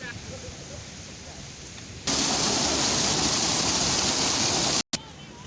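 Fast-flowing water rushes at a bathing spot near Taxila, a constant roar that jumps suddenly louder partway through, then cuts out for an instant before returning.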